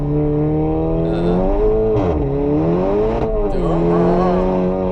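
A 455 hp Cupra Leon with a hybrid turbo engine revs loud and close in the rain at the Nürburgring, its pitch climbing until it hits the limiter and shifts up automatically, with repeated rising and dropping sweeps.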